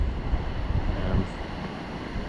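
Strong wind blows steadily outdoors beside a 1974 O'Day Mariner 19 sailboat after rain, a constant broad rushing roar with low gusty buffeting.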